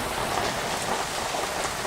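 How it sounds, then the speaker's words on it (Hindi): Heavy rain pours steadily during a thunderstorm, a dense, continuous hiss of drops drumming on surfaces, loud and close with no pauses. "आगे भी लगता नहीं है बारिश आज रुकेगी।"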